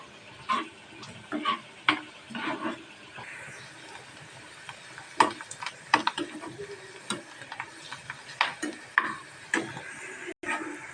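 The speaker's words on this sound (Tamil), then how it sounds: "இங்கே வெங்காயம் நல்லா பொறிஞ்சு வருது" Onions frying in a pan for Tamil-style ghee rice, with a steady low sizzle under repeated sharp clicks and scrapes from stirring that come in uneven bursts, close and moderately loud.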